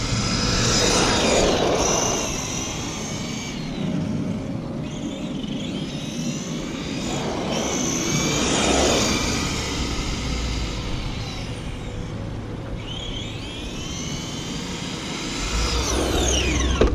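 An ARRMA Senton 4x4 1/10 short course RC truck runs on LiPo power, its electric motor whining up and down in repeated passes, swelling as it nears and fading away.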